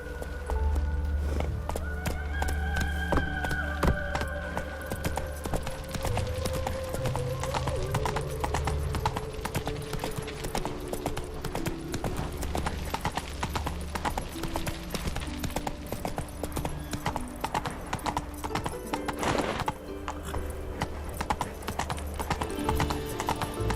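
Roach the horse gallops in The Witcher 3, a steady run of loud clip-clop hoofbeats with an occasional whinny, set against game music and ambient noise.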